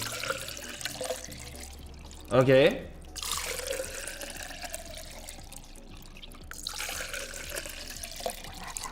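Water poured in a short trickling stream, fairly faint under a quiet room, with a person speaking briefly alongside it.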